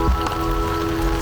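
Wet-season rain patters steadily on a hard surface by a van, a close continuous spatter with a faint steady hum running beneath it.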